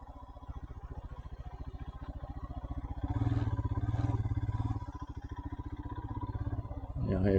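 A motorcycle engine idles with a steady low rhythmic thump as the bike is ridden into a parking spot at Nadabet and settled among other bikes, ending with a brief clatter.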